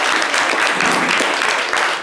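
Audience applause at a live Ivorian talk show, dense steady clapping from a crowd filling the room at full volume, with a faint voice underneath.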